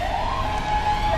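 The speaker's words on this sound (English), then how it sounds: "really loud ambulances driving by all the time" An ambulance siren wails steadily on a London street by Westminster, a continuous loud tone over constant traffic rumble, with no talking.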